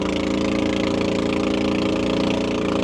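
A small boat's motor drones steadily up close, crossing big waves off Koh Mak, Thailand, a buzzing, even engine note with no pauses and no voices.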